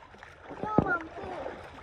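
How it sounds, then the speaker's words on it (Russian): A rowing boat paddled through water among reeds, with a single sharp splashing stroke near the middle under quiet chatter from people aboard. "Гриш, ты что ли так гребешь резко?"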